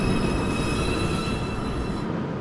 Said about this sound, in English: Uptown Express 2 train approaching the station.